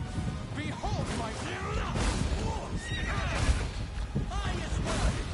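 War horses in Unicorn Overlord whinny repeatedly over hoofbeats, crashes and battle clamor, loud and busy, with voices calling out during the fight.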